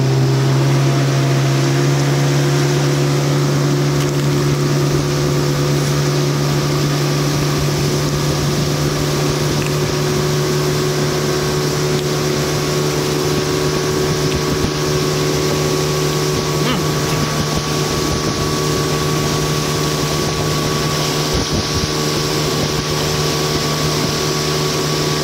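A boat engine drones loud and unbroken while the vessel runs on the water, a steady low hum with a constant tone throughout.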